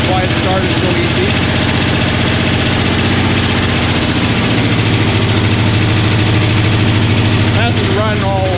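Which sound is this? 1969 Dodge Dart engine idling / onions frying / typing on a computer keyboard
1969 Dodge Dart engine idling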